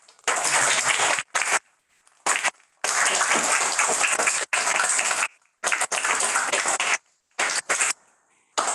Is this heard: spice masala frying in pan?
no